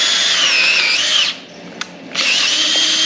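A power drill with a 7/16 bit bores a hole during a Dana 80 axle install, giving a loud, high whine that runs, pauses briefly with a small click, then resumes.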